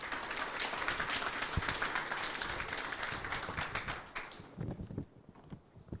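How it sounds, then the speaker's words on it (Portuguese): Audience applause after a speaker is introduced at a business talk event, with dense clapping that runs for about four seconds before thinning out to a few scattered claps. "Por favor, salva de palmas para a Fernanda."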